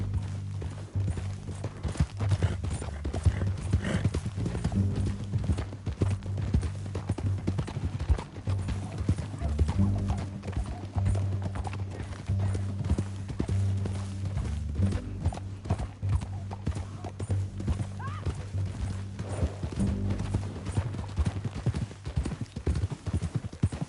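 Horse hooves gallop in a steady, continuous clip-clop throughout a Red Dead Redemption 2 ride, loud and close with a low rumbling bed beneath, no talking.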